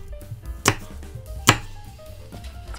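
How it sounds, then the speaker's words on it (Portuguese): A knife chops apples into pieces on a board, two loud distinct cuts close up followed by a fainter third, with soft kitchen rumble in between. "Três maçãs. Corte em pedaços."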